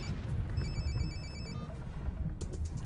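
A telephone rings with a short burst of bright electronic trilling tones over low, rumbling background noise, then falls silent.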